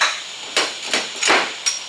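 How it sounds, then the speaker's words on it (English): Slide hammer pulling a dent from a damaged car body: four sharp metallic knocks at irregular intervals, close and fairly loud, each with a short ringing decay, no talking. "I was actually using this as a slide hammer"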